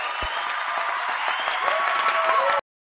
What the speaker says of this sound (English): Okay, now we can clap.